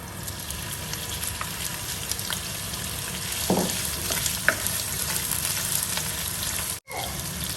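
Shrimp sizzling steadily in hot garlic oil in a pan for a Thai basil shrimp stir-fry, a continuous close crackle with a few louder spatters and scrapes partway through.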